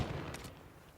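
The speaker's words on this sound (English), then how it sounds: "A little rattler gunfire by the A-bomb site," Rapid gunfire rattles in a Call of Duty match, a short burst of shots that rings out briefly near the middle of a one-second stretch of game noise.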